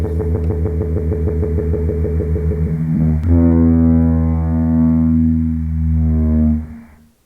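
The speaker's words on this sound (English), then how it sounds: "This is a blue whale sound." A blue whale call played ten times faster than real speed gives a loud, droning horn-like tone, first in rapid pulsing bursts and then as a steady sustained moan that fades at the end, with no voices.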